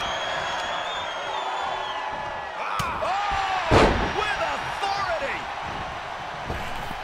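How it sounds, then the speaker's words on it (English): A WWE 2K22 video-game wrestling crowd roars and cheers continuously, with a heavy slam and thuds cutting through the noise. "The sound of this crowd is deafening."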